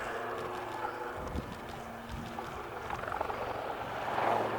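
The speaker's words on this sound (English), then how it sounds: "As the Lynx comes into the hover, and a big nose-down dive away" Westland Lynx helicopter hovering at an air show, a steady distant rotor and engine rumble with wind noise, moderately faint and continuous, rising slightly at the end.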